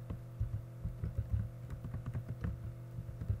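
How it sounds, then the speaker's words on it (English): Keystrokes on a computer keyboard while code is entered into a JavaScript window, a steady run of quick, close clicks over a constant low electrical hum, with no talking. "So I can type in here, for example,"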